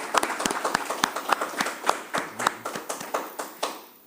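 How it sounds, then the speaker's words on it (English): A small audience at a tribal council meeting claps for a nominee: scattered, distinct hand claps at an uneven rhythm, fairly quiet and close, with no talk over them. "I'd love us to give her a little applause here."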